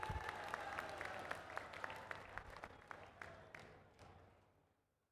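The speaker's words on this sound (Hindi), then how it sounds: "हमारे पूर्व सैनिकों के अभिनंदन में भी तालियां बजाकर एक बार स्वागत किया जाना चाहिए मेरे दोस्तों" Audience applause at a political rally in Baripada welcoming former soldiers: a dense crowd clapping with sharp individual claps standing out, steady at first and then fading away toward the end.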